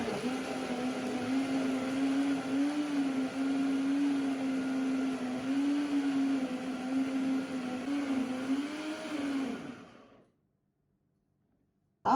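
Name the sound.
high-speed blender blending steamed pumpkin and leftover rice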